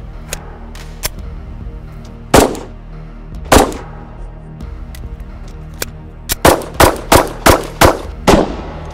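Series of 9mm 124-grain XTP bonded hollow point pistol shots fired close at Level II soft body armor: scattered single sharp reports early, then a rapid string of about six evenly spaced loud shots, with no talking.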